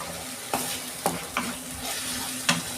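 Tomato and green chili are sautéed with Kashmiri chili powder and a splash of water. The pan gives a steady close sizzle with sharp scrapes of a spatula stirring at irregular intervals.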